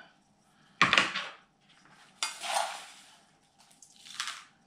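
Snipping a sticking-up root on a bonsai tree during repotting: three separate crisp cutting or crunching snips, close and fairly quiet, with short gaps of near silence between them.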